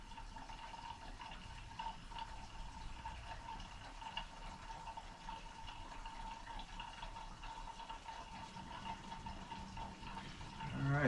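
Gasoline pours steadily from a leaky gas can into the fuel tank of a Briggs & Stratton V-twin engine, a continuous trickling gush running unbroken at moderate level with no voices.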